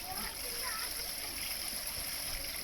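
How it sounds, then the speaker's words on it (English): Koi pond water stirred and splashed against the pond wall, a continuous churning, splattering wash heard close by, with a person talking over it. "Now it's just started to come again when we agitate the water."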